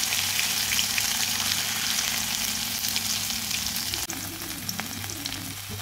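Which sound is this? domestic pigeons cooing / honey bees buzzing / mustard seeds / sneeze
mustard seeds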